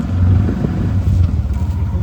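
A Maruti Suzuki Eco van's engine rumbles low and steady up close, with slight surges in revs and faint voices in the background.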